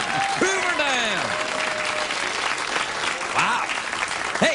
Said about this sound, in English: an applause break on a Hoover Dam pun